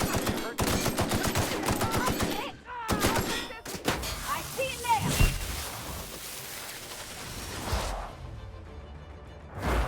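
Loud bursts of gunfire in The Outer Worlds video game crack in rapid clusters over the first few seconds, followed by quieter scattered shots and impacts against a steady game background.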